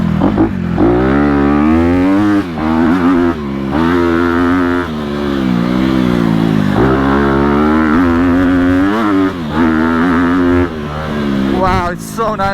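A 2020 Honda CRF250RX dirt bike revs hard at high RPM, its engine rising and falling in a loud, close, buzzing wail with repeated surges throughout, while a rider talks over it.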